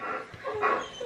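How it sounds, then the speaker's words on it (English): Small dogs give a couple of quick, close barks and yips at a passing Great Dane, brief and moderately loud in a quiet setting. "You'd think they didn't like Little White Dog."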